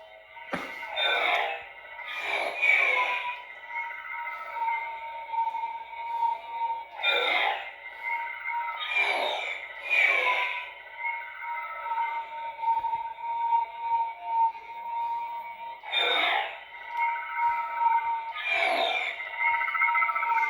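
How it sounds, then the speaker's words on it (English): A Hasbro Star Wars Darksaber toy lightsaber hums with a buzzing electronic tone, punctuated by repeated swooshing clash bursts, moderately close with no talking. "That is the very Darksaber-esque sound"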